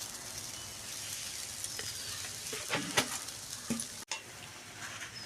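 Rice fries in a pan with two bay leaves, a soft continuous sizzle broken by a few scraping stirs of a spoon against the pan, one sharp clatter near the end, no talking.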